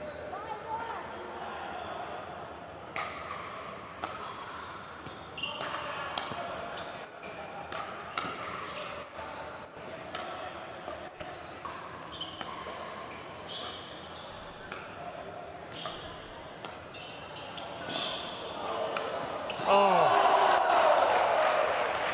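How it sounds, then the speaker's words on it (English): Crowd applause in an indoor arena at a pro men's singles pickleball tournament in Ogden, Utah, scattered claps and cheers under a commentator's voice, swelling louder toward the end. "Listen to that crowd in here in Ogden, Utah at the Tournament of Champions, applauding the effort of both players"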